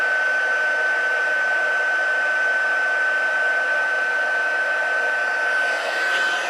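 A heat tool melts embossing powder on a watercolour poinsettia paper card, a loud steady blower roar with a high whine held close and unchanging throughout.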